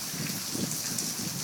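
Heavy rain driven by strong wind pours in a continuous dense hiss with a low gusting rumble beneath, steady and enveloping with no voices.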